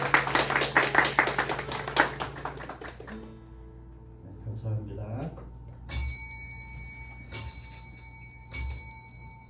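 A church congregation claps in a brisk burst of applause for about three seconds, followed by a few ringing bell-like tones over a quiet room.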